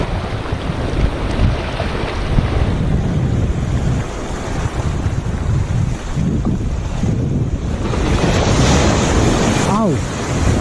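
Ocean waves washing onto a shore during ultralight shore casting, steady loud surf wash with gusty wind buffeting the microphone throughout and no speech.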